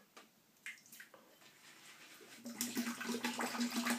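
Tap water runs steadily while a Perazzo pre-shave cream is worked into a face lather, the flow growing louder and fuller midway with a low steady hum beneath.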